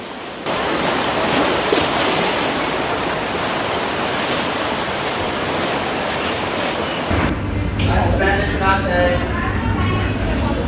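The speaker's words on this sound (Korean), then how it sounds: "막 파도가 치면 물이 막 들어오네요" Steady broadband rush of surf with water sloshing at Repulse Bay, Hong Kong, waves washing in beneath a seaside building, continuous and fairly loud, a heavier wash surging in near the end.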